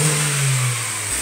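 The engine of a Toyota Innova Zenix with a partial remap and two Black Core add-on modules revs close up, its droning note holding and then dropping back toward idle.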